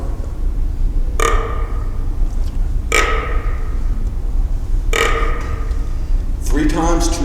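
A human voice imitates a deer's burp grunt, three short guttural belches spaced about two seconds apart over steady background hiss, with a fourth starting as the sound ends.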